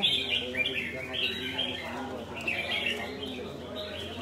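Caged songbirds at a bird singing contest chirp and trill in repeated bright bursts, moderately close, with people talking in the background.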